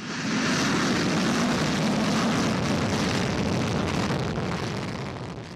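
A fighter jet roars loud and steady overhead, a dense broadband engine rush that holds for several seconds before easing off slightly at the end.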